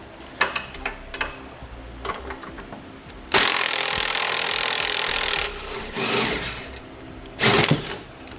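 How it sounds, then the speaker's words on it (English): A power tool whirs for about two seconds to remove the bolt joining the steering knuckle and control arm on a 2015 Buick Enclave, with short metallic clicks and ratcheting before and a brief second burst after. "Now we'll take out the bolt here on the front side of the knuckle, also connecting to the control arm there."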